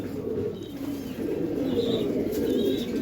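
Giribaz pigeons in a dim loft give soft, low cooing in a continuous murmuring layer, with a few faint higher chirps and light wing stirrings nearby.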